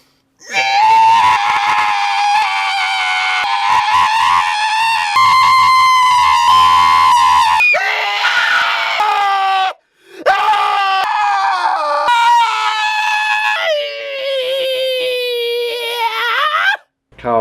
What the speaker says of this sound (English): I'm just gonna scream.